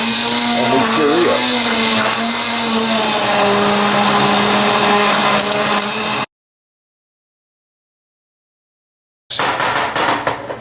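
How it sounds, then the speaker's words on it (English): An immersion blender purees butternut squash soup, its motor a loud steady whine with churning liquid for about six seconds, then a gap of silence before it runs again briefly. "Immersion blender goes in here, and we puree"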